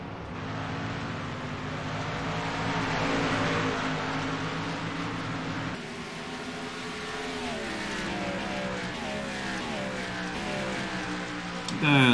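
Race cars at Portland Road Course in a racing video game, several engines droning and shifting pitch together under braking and acceleration, a loud continuous layered whine lasting throughout with no talk.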